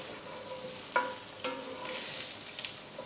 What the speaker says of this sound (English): And we just want to give them a quick sear.